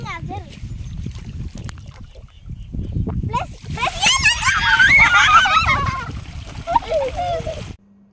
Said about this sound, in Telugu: పిల్లలు ఇక్కడ బోర్ దగ్గర వాటర్ కోసం వెళ్తే ఇక్కడ వాటర్లో ఆడుతున్నారు